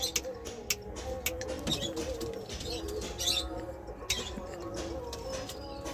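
Madras pigeons cooing and fluttering in a loft, soft repeated coos and scattered chirps with small knocks and rustles, fairly close, continuous throughout.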